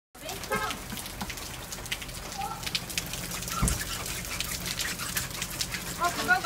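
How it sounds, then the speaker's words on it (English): Steady rain falls outdoors during a Florida summer, a dense hiss of drops with a few sharper spatters and faint bird calls, continuous and moderately close. "It is raining outside now."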